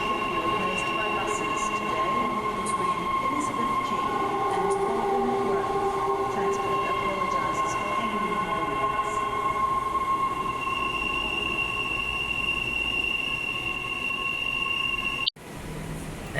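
A Perth Mandurah line train rolls steadily into the tunnel, a loud sustained rumble with tonal whine and wheel squeal that runs continuously before cutting off abruptly near the end; no one speaks.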